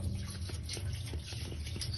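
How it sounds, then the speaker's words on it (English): Warm water is poured into a fuel tank from a 1975 Series 3 Land Rover during restoration, a quiet, continuous trickling and sloshing with faint drips, steady for the whole moment and without speech. "So now I will tip my warm water in there."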